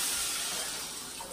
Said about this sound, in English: now I'm about to go ahead and add some water into this pan